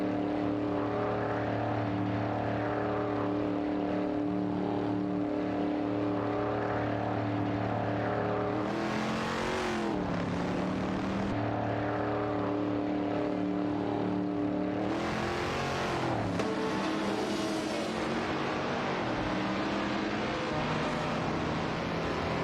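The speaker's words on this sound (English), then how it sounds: "get ready to watch some AI race cars zooming by" Simulated race cars in an AI racing series roar steadily with high engine whine, swelling loudly twice as cars sweep past with pitch-shifting drone, no voices.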